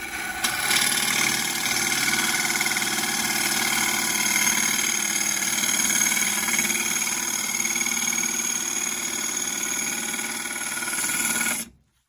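A Harvey T40 lathe spins at 1150 RPM while a bowl gouge cuts into hard maple, a steady loud whirring motor hum with a scraping cut sustained for about eleven seconds before it stops abruptly.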